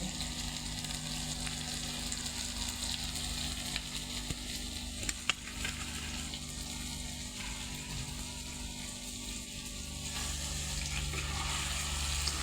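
Wet ground masala paste of peanuts and chillies frying in a pan for stuffed brinjal, a steady low sizzle with soft stirring scrapes and a few sharp clicks, fairly quiet and continuous.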